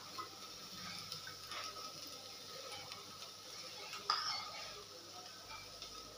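Fenugreek (methi) leaves with turmeric stirred and sautéed in a pan, a steady soft scraping and gentle sizzle with occasional clinks of a spoon against the metal, close and fairly quiet, no talking.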